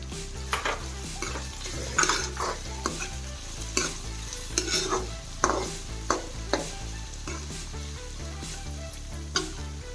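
Peas and carrots stir-fried in a pan for a rava upma breakfast, with a steady sizzle under repeated scraping and clinking strokes of a spoon against the pan, close and uneven in rhythm.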